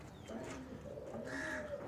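Pigeons in a loft give soft, rolling coos, layered and close, over a low background hum.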